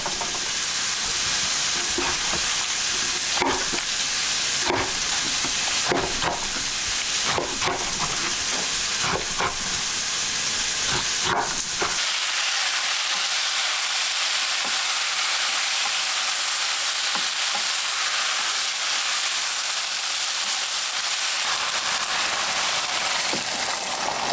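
Pork and aged kimjang kimchi stir-fry in a pot for kimchi stew, a close sizzle with repeated utensil scrapes and clicks that later settles into a softer, even hiss.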